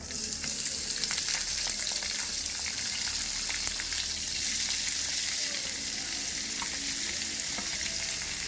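Onions sauté in hot oil with dried red chilies while cooking pepper chicken, a loud, dense, continuous sizzle with faint scraping of stirring. No one speaks.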